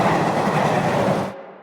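A train rumbles past on rails in the video game Underrail, a loud close roar with rhythmic clatter that cuts off abruptly near the end, leaving a faint tail.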